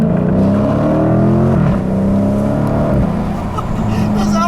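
A 2016 Dodge Challenger R/T Scat Pack V8 accelerates hard from inside the cabin, a loud steady engine drone rising in pitch with a shift partway through, a voice briefly audible.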